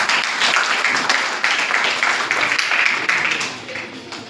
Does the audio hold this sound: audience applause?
yes